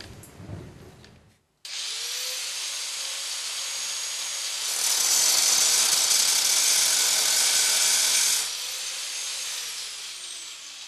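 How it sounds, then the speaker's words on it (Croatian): An angle grinder removes excess metal from a freshly welded steel bar, a loud, steady high-pitched whir that runs for several seconds, growing harsher while the disc bites in, then easing back. "Višak materijala uklonit ćemo brusilicu."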